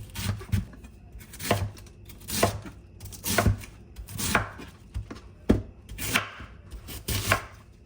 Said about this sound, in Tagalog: Simulan natin hiwain ng gulay mga kaputrip.